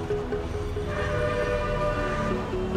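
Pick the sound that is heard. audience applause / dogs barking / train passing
train passing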